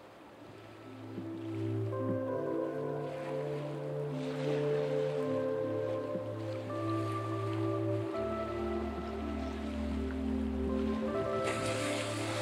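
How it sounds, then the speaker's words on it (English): Sea surf breaks on the shore beside coastal marshes at Lymington and Keyhaven, a soft, steady wash of waves under faint background tones, distant and continuous. "especially with the sound of the sea breaking on the shore behind"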